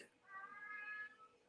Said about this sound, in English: one of my cats is just flipping the hell out right now outside my door because she can hear my voice